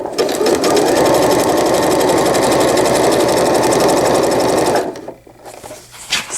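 A sewing machine stitches steadily at a slow, even pace while fabric is eased around a corner for a fold-over-elastic diaper cover, then stops near the end and leaves a quiet pause.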